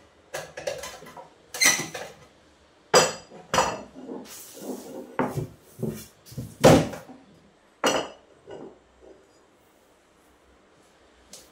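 A run of metallic clanks and clatters as steel pots and containers are stacked one after another, irregular and close, then fading to quiet.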